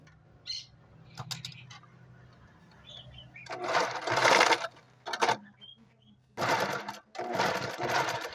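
A sewing machine stitches the wrong side of a fabric coin purse in bursts of steady whirring, the loudest mid-way and near the end, separated by quiet pauses with small handling sounds and faint chirps.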